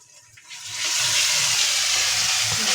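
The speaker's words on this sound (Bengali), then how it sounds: "তো এখন আমি একটু সামান্য পরিমাণে পানি দিয়ে দিচ্ছি।" Water is poured into a hot cooking pot of fried onion, cardamom, cinnamon and ginger-garlic paste for potato curry, a loud hissing sizzle that swells after half a second and holds steady, close up, with no talking.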